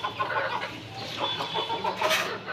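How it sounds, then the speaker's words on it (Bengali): Chickens clucking in a small coop on a rooftop garden, a steady run of soft near clucks and calls with no talk. "দেখছেন, এই হলো আমাদের মুরগি।"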